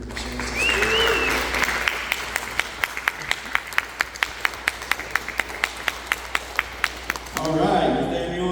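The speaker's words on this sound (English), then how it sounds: "if I can have you guys give a huge round of applause to Rowen, who will share his testimony" A youth church gathering breaks into evenly timed rhythmic clapping, crisp claps landing on a steady beat for several seconds. Voices and a cheer rise before the clapping starts and again after it stops.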